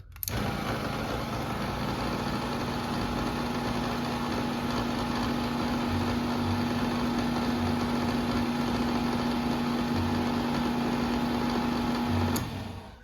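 A LiftMaster 1000SDR garage door opener motor runs steadily at close range with a constant loud hum and a strong mechanical drone, starting abruptly and stopping cleanly after about twelve seconds, with no talking.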